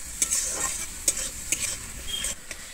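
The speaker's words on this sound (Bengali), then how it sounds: "আমি আদা কাঁচা লঙ্কাটা দিয়ে কিন্তু খুব ভালোভাবে আবারও কষিয়ে নেব, যতক্ষণ না আমার কাঁচা গন্ধটা যায় আদা থেকে।" Ginger and green chilli paste sautéing in a pan for a Bengali cauliflower roast, a steady close sizzle with several sharp spatula scrapes against the pan, no talk.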